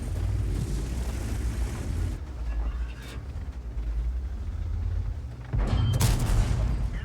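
Tank cannon shots striking a T26E5 heavy tank in a tank video game, heavy booming impacts over a constant low engine rumble, with a sharp loud hit near the end.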